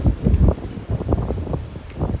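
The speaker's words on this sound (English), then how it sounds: "Wind, just stop already." Strong gusting wind buffeting outdoors, rough low roaring bursts with uneven surges and brief lulls, loud and close.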